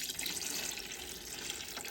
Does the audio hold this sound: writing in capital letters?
no